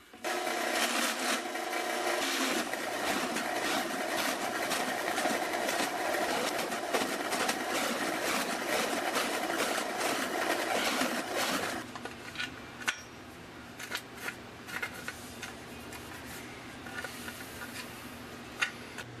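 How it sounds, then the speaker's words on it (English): A power drill whirs continuously as it bores holes into a wooden router fence for a table saw, loud and close, then cuts off, leaving quieter clicks and handling noises. "Drill out all these holes."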